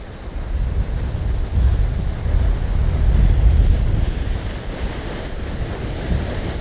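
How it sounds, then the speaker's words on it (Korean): Strong ocean surf pounding coastal rocks at Cape Banks near Sydney, with heavy wind buffeting the microphone; a steady, loud roar of waves and gusts with no voices. "굉장히 파도가 세죠. 바람이 세죠."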